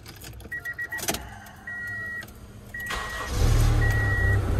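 A silver Honda CR-V's engine runs steadily at idle close by, starting faint and growing to a louder, fuller rumble toward the end, preceded by a few short clicks and electronic beeps.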